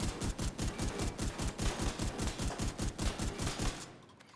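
Automatic gunfire from the Division 2 video game rattles in a fast, steady rhythm of sharp bursts for several seconds, then cuts off abruptly. The shots are loud and close, with no voices over them.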